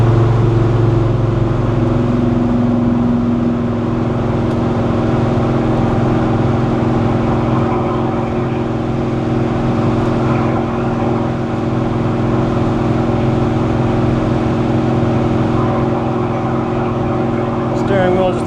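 A 1969 Chevrolet Chevelle SS 396 big-block with a four-speed cruises in high gear at highway speed, its engine a steady, loud, droning hum around 3,000 RPM that holds nearly constant for the whole stretch.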